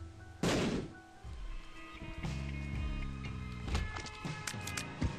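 Bomb exploding in The Binding of Isaac: Rebirth, a sudden loud thud followed by game music and scattered in-game effects.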